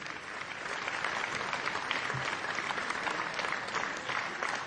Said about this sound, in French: Et avec quelques applaudissements quand même, s'il vous plaît